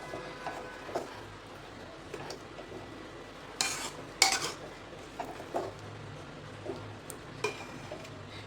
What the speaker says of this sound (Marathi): सर्व छान मिक्स करून घ्यायचे